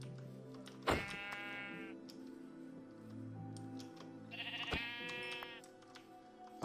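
Minecraft sheep bleating twice, separate nasal bleats a few seconds apart, fairly close, with clicks and soft game background noise between them.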